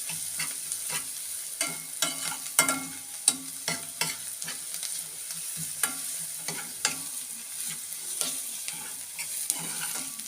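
Garlic frying in a pot with tomato juice, an irregular bubbling sizzle broken by sharp stirring scrapes and pops, close and fairly loud, with no voices.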